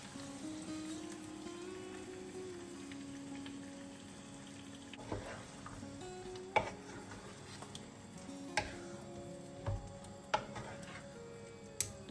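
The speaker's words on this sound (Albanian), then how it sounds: "Të gjithë masën tashmë do ta hedhim tek specat, të cilat janë skuqur dhe janë zbutur." A mixture tipped into a pan of fried, softened peppers, with soft stirring and scraping, a low steady hum and several sharp clinks and taps of utensils against the pan, fairly quiet and close.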